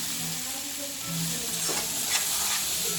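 Onion paste fries in hot oil in a pan as the tempering for a spicy dry chicken dish, a loud, steady sizzle with stirring scrapes and no voices.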